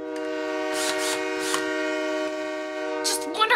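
An audio-drama sound effect of a magno train bearing down, a loud sustained multi-tone horn blaring continuously with rumble underneath, while voices speak over it.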